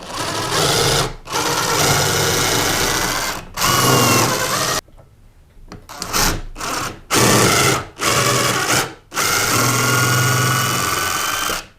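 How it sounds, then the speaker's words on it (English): A power drill fitted with an extender pre-drills a hole for an outlet or switch screw, whirring loud and close in several sustained bursts separated by short stops, with one longer pause midway. "We're just gonna pre-drill"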